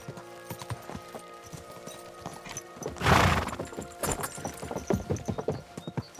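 Horses gallop through a valley in Kingdom Come: Deliverance II, a quick rhythm of hooves with a neigh partway through and a loud burst of rushing movement near the middle.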